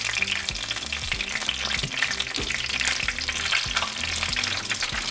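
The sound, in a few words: chicken chimichangas frying in oil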